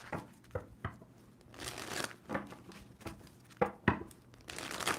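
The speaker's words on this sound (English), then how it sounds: "2 more shuffles for Scorpio." Soft papery riffling of tarot cards being shuffled in several short bursts, close by, with brief pauses between and no talking.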